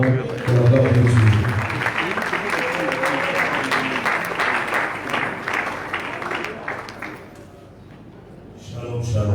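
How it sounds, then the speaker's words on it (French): A congregation applauds at a church wake for a patriarch, warm steady clapping close and loud under someone speaking in French, tapering off near the end as the voice continues. "pendant qu'il s'élève et qu'il s'approche, nous acclamons pour la gloire de Dieu"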